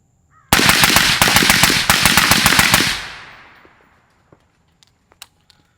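A Guardian Defense GDM556k rifle fires a rapid full burst into a dirt berm outdoors, a loud, sharp stream of shots lasting about two and a half seconds before echoing away, followed by a few faint distant pops.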